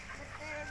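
Chickens cluck softly at a farm coop, a faint, short burst of fowl calls over low background noise, with people talking nearby.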